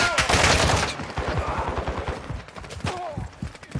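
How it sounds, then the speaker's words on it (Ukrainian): Gunfire in Call of Duty Warzone DMZ: rapid automatic bursts and single shots crack out close and loud, thinning over a few seconds into scattered sporadic shots. "Постріли є."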